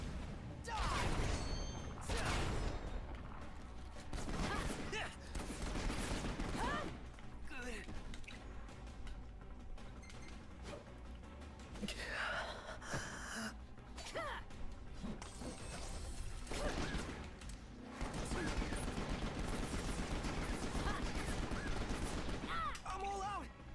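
Rapid bursts of gunfire from Prompto's weapon in Final Fantasy XV, with dense, loud volleys running almost the whole time, mixed with clanks and impacts of game combat and brief voice sounds.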